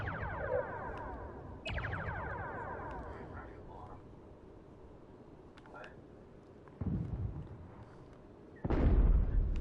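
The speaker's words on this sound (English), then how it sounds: "Torpedoes going out." Starship torpedoes launch in a space combat video game, several separate booming discharges spaced a few seconds apart. Each sends out a ringing, decaying tail, and the last blast is the loudest, over a low background hum.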